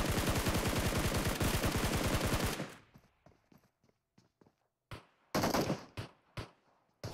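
Gunfire rattles in PUBG Mobile: a fast, steady burst of close shots, then a quieter pause broken by scattered single pistol shots and short clusters of reports.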